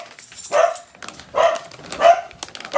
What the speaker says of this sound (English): Guys, there are the dogs.